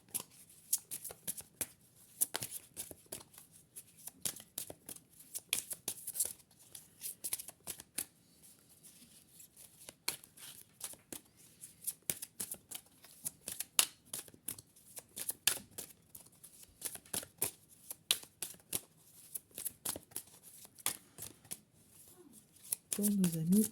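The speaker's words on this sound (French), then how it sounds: "je vais vous tirer une carte conseil supplémentaire, petite carte cadeau de l'oracle de la transformation." Oracle cards being shuffled and drawn at a tarot reading, a soft, quick, papery riffling that continues in irregular bursts throughout while someone speaks quietly over it.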